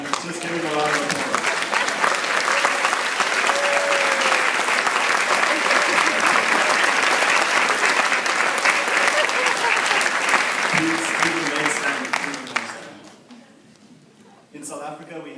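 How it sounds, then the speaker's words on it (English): Graduation ceremony audience breaks into loud, sustained applause from a large crowd, holding steady for about twelve seconds before tapering off, with faint voices underneath. "And just give it a round of applause."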